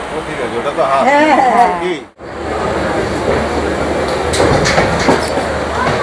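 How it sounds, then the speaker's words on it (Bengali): A Duronto Express train departs Sealdah station in Kolkata, rumbling and clattering steadily on the rails, with people talking nearby over the noise; a brief dropout interrupts it early on. "ঘড়ির কাঁটায় 8টা বাজার সাথে সাথেই আজকের আমাদের এই দুরন্ত এক্সপ্রেস ট্রেন শিয়ালদা থেকে কিন্তু ছেড়ে দিল।"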